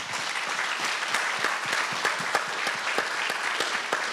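Steady applause from an audience at a Founders' Day convocation, a continuous wash of many hands clapping at moderate volume with individual claps standing out, no talking.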